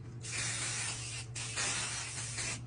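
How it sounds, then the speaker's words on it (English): Close, loud hiss of quilting basting spray from a can, in a few sustained bursts with brief pauses between them. "I'm gonna use my quilting basting spray to spray down like this"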